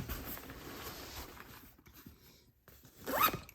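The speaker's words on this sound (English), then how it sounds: "And then for the back zipper," A zipper on an everyday-carry bag is pulled open in a quick series of rasping strokes, close up, with a louder, sharper final pull near the end.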